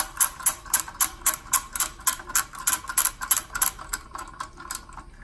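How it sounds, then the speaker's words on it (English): A hand ratchet clicking as it tightens a nut on a regulator knob, a close, crisp run of evenly spaced clicks that slows and fades toward the end. "And then you're going to take your ratchet,"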